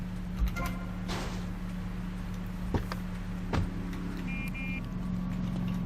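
A car drives in the video game GTA Vice City, its engine a steady, low mechanical drone that holds throughout, with a few brief clicks and higher tonal blips from the game over the top.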